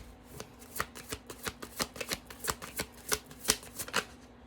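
Tarot cards riffled and shuffled in the hands, a quick run of crisp, evenly spaced flicks and slaps close by, with no talking.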